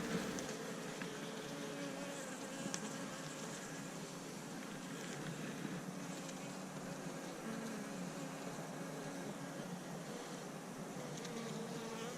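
Honey bees around an Apimaye hive make a steady, dense buzzing that hums on continuously without pause, soft and even throughout, with no talk.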